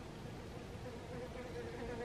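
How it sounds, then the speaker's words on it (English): A bee buzzes loudly indoors, a steady close drone that holds for about two seconds with no break and no voices over it. "Oh my god, it's a bee."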